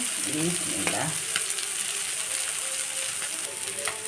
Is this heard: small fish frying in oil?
yes